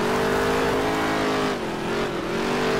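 Race cars roar around the track in NASCAR Heat 3, engines droning steadily at high revs with a slight pitch dip midway as the pack runs close together, loud and continuous with no talk.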